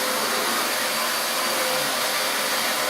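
A household vacuum cleaner runs nearby while a baby sleeps, giving a steady loud roaring whine that continues unbroken for the whole stretch, with no voices.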